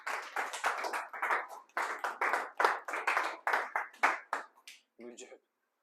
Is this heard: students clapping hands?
yes